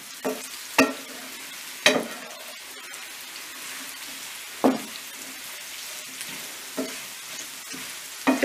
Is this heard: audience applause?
no